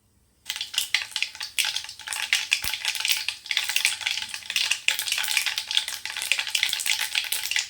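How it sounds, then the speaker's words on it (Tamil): Mustard seeds hit hot oil after a moment of silence, and a loud, dense crackling sizzle follows with rapid popping and spattering that keeps going steadily up close. "எண்ணெய் சேர்த்துக்கலாம் கடுகு சேர்த்துக்கலாம்"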